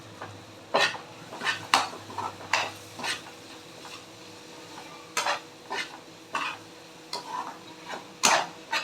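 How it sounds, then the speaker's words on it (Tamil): Crumbled bread sautés in a pan, stirred with repeated scraping strokes of a utensil against the metal in an irregular rhythm over a quiet background sizzle, close and fairly loud. "இப்போ இதை நல்லா வதக்கிட்டு, இப்போ ப்ரெட்டு இருக்குது பார்த்திங்களா"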